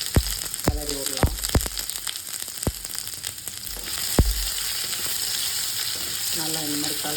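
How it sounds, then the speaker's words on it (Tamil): Peeled potatoes frying in a pan while being stirred for color: continuous close sizzle broken by several sharp, loud scrapes and clacks of the spatula, with a brief tonal ringing near the start and again near the end. "இப்போ நம்ம உரித்து வச்சுருக்கிற உருளைக்கிழங்க போட்டுடலாம். போட்டுட்டு நல்லா கொஞ்சம் கலர் வர மாதிரி கிளறி விடலாம்."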